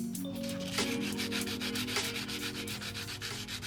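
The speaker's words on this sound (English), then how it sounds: "So I use that real tough grit sandpaper. It shaved that down real nicely" Coarse, tough-grit sandpaper rubs a wooden block in quick back-and-forth strokes, a close, rhythmic scratchy rasp with no talking.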